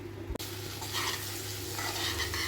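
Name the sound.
sesame seeds frying in a pan for curry leaf chutney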